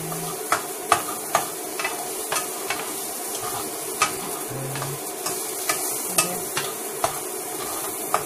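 Chopped shallots sizzle steadily in a frying pan, with sharp utensil scrapes and taps against the pan recurring every half second or so as they are stirred; no voices.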